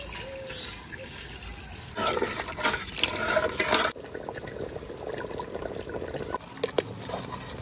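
Water poured into a pot of meat curry with fried potatoes, a splashing rush lasting about two seconds followed by softer bubbling and trickling, close by with no talk.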